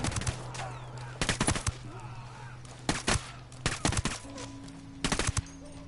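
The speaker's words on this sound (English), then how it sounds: "Throwing a flash. Flashbang's going in." Bursts of close gunfire in a shooter game after a flashbang goes in, several sharp clusters of shots spread across the stretch, with quieter game sounds and a steady low tone between.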